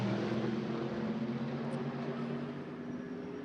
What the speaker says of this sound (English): So the two Mercedes across the line, they rumble past the hospitality units and the grandstand on the start-finish line